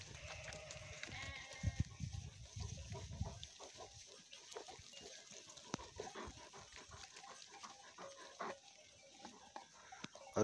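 Lambs and goats bleat in a mountain flock, several animals calling irregularly at varying distances over rustling and scattered background noise, with no clear speech.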